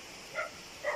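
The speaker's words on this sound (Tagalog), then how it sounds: "May mga aso doon, sinusundan ako." Dogs following a mountain biker on a trail at Sitio Liw Liw in Tuba, Benguet, give two short, faint barks about half a second apart, sounding distant over a steady outdoor hiss.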